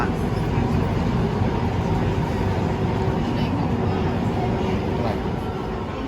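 Steady low rumble of an Amsterdam metro train running, a continuous loud drone with rattling and hum throughout, no clear voices.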